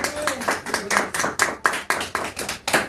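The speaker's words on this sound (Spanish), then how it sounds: "Dale un fuerte aplauso al Señor Jesucristo." Strong rhythmic clapping from a church congregation praising Jesus Christ, about a dozen sharp, evenly spaced beats close by with faint voices underneath.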